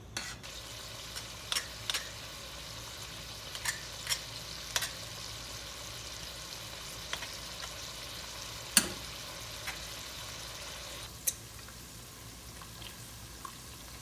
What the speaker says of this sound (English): Now the bacon is frying slowly